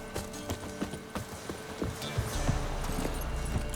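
Roach, a horse in the video game The Witcher, gallops with a steady, rhythmic clip-clop of hooves, up close and continuous, over a soft background ambience.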